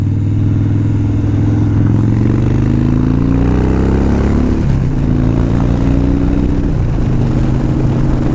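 A Harley-Davidson Dyna Street Bob motorcycle rumbles steadily on the road, its loud engine drone shifting pitch as the rider rolls on and off the throttle, with constant wind rush over the whole ride.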